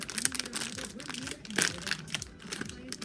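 Crinkly plastic packaging of a Poppin' Cookin' gummy-making kit rustles and crackles close by, with a sharper tear partway through and a voice murmuring underneath.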